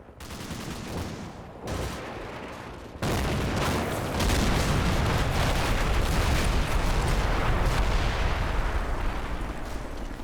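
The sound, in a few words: Mi-24 helicopter rocket strike on village, video game Combat Mission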